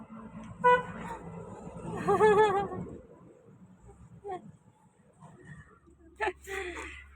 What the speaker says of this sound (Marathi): आता बघा हॉर्न वाजवतोय.